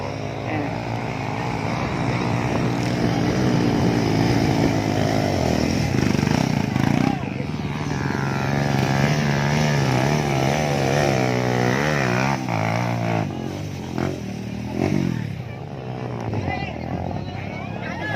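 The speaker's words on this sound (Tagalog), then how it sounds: "Pumugak yung makina." A motocross motorcycle engine roars and revs on a steep hillside trail, loud and sustained with shifting pitch, while voices talk over it.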